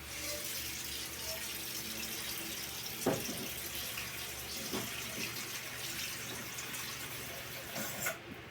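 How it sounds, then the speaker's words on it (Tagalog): Tap water runs steadily into a baby feeding bottle being filled for washing at a sink, a continuous near splashing stream with a couple of faint clinks, no talk. "So, lalagyan ng konting tubig."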